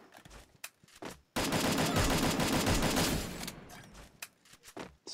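Gunfire from the Free Fire video game comes as one loud, dense burst of rapid automatic shots lasting under two seconds. Scattered quieter game sounds come before and after it.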